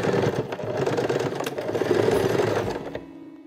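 Electric sewing machine stitching fabric: a steady, close whirring hum with rapid needle rattle for about three seconds, then it stops abruptly, leaving near silence, with no talk over it.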